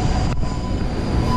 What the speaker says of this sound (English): Okay, we'll get into the metro.